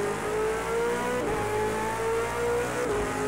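A V8 Supercar engine in Project CARS 2 at Circuit of the Americas pulls hard under sustained throttle, its steady rising drone holding loud and close for several seconds with a brief dip midway, no voices over it.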